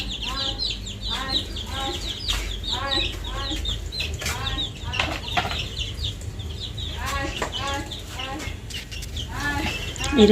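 Hens cluck repeatedly in a busy rhythm while small chicks peep nearby, over a steady background of outdoor noise.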